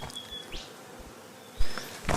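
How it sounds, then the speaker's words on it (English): Bees buzz around a cave entrance, several passing close in brief rising and falling drones against a quiet outdoor background, with a couple of louder passes near the end. "there is a lot of bees there, isn't there?"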